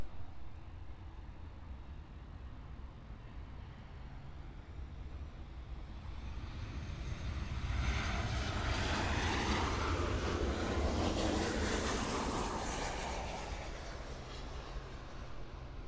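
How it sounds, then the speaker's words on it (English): An American Airlines Boeing 737-800 on final approach to runway 9 at Miami International Airport, a jet roar rising to a broad peak mid-clip then easing, over steady background noise on a hot day. "here is the American Airlines Boeing 737-800 on final now for runway 9er"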